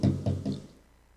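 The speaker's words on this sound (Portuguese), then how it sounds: "O sábio bate na porta do João Grilo." Three quick knocks on a door, close and firm and evenly spaced, fading into quiet afterward.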